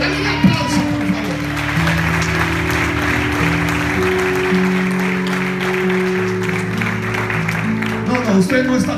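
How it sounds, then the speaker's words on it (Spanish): A church congregation in Venezuela applauds during a service, steady crowd clapping under sustained held musical tones from instruments, with voices present. "Dale un aplauso, por favor."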